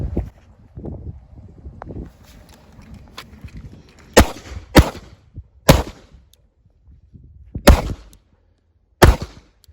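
Handgun firing at chest, head and steel targets on a range: six sharp, loud shots in uneven pairs and singles with gaps between, the later ones ringing briefly, after some quiet shuffling.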